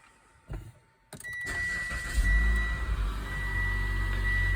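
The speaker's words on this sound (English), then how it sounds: "now that the brand new oil has been replaced, or in other words, we added the new oil, we will start the vehicle" A Mitsubishi Outlander crossover SUV starts up after an oil change: a brief click and cranking, then the engine catches and settles into a close, steady idle with a faint electronic tone.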